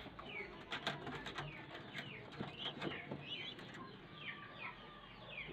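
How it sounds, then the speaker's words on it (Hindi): Caged pigeons coo softly in a rain-soaked enclosure, several low murmuring calls mixed with faint chirps and brief clicks, quiet and close. "कबूतरों को भी देख सकते"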